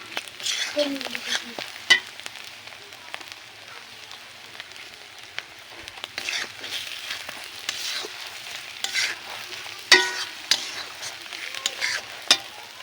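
Bay leaves land in a pan of frying spice paste, giving a continuous near sizzle with repeated stirring scrapes and a few sharper clinks.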